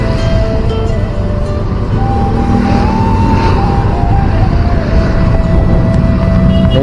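Heavy road traffic through Lembah Anai on the route between Padang and Padang Panjang, a loud, dense, continuous roar of passing vehicles with engine drone close by.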